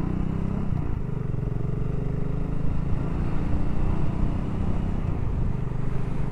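Steady engine rumble and road noise from a BSA 650 Goldstar being ridden, a continuous low, mildly clattering drone heard from on the bike for several seconds, fairly even in level, with no speech.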